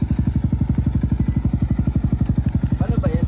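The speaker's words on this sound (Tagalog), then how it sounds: "Go Joms, tuturuan po namin si Joms mag-manual ng motor." A manual motorcycle engine runs close by with a steady, rapid thumping beat, loud and even throughout, with a brief higher whine near the end.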